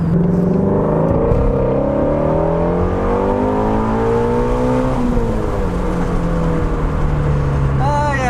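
A 2020 Shelby GT350 V8 heard from inside the cabin with the windows up while driving, a steady engine drone with rising and falling pitch as it pulls through gears.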